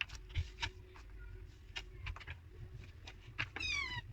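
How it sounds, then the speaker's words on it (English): A pet cat named Hazel meowing indoors, several short, fairly faint mews in an irregular run, ending in a longer drawn-out cry, with no talk. "that's my cat Hazel."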